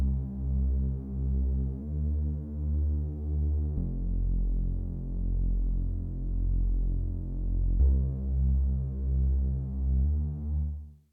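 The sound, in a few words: low synth bass line with filtered sawtooth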